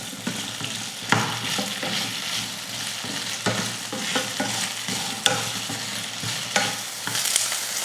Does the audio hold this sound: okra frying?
yes